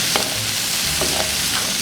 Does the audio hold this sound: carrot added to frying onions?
yes